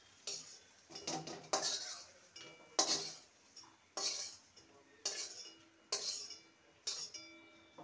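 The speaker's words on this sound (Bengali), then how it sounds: "এবার একটি পাত্রে তুলে নেব।" Fried bitter gourd is scooped from a pan into a bowl, heard as about eight evenly spaced metal scrapes and clinks of a utensil against cookware, close and fairly quiet.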